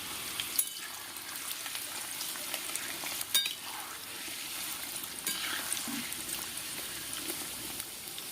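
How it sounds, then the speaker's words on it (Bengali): Potato pieces fry in hot mustard oil, a soft continuous sizzle and crackle close by, with occasional light scrapes and knocks of stirring. "লাল লাল করে আলুটা ভেজে নেব।"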